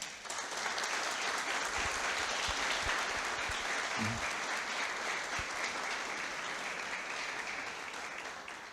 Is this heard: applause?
yes